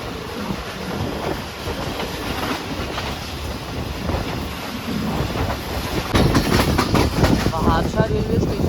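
Shalimar Express passenger train running on Main Line 1 between Karachi and Nawab Shah, a loud continuous rumble and clatter of wheels on rails with heavy wind buffeting, the rhythm of the wheels sharpening toward the end.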